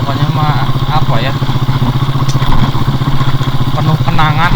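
A motorcycle engine runs loud and close on a road near the old Antam mine factory at Cikotok, a steady throbbing drone that continues throughout, with a person speaking over it.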